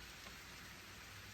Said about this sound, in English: Oh my goodness, it's raining.